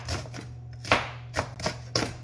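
A knife chops through an onion on a cutting board in five or six crisp, separate strikes, close and fairly loud over a low steady hum, with no talk.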